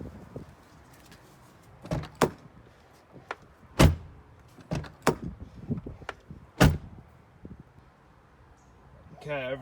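Knuckles tap on a bare, untreated Land Cruiser 76 Series door panel, giving a series of sharp, hollow knocks at an uneven pace, close to the listener.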